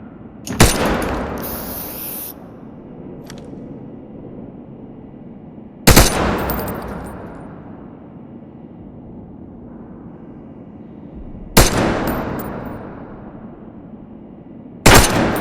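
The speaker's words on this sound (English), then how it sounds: "Fire at the edge of the container and watch the bullet rebound." Gunfire in the video game Wardogs: four loud, sharp shots aimed at the edge of a container, spaced several seconds apart, each followed by a ringing decay and ricochet.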